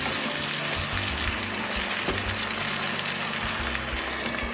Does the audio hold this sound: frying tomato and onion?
yes